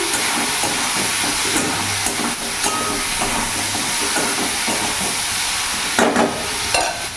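Shrimp cooking in a hot pan with salt and turmeric hiss and sizzle steadily, with occasional scrapes and clinks as the pan is stirred, close and continuous with no voices.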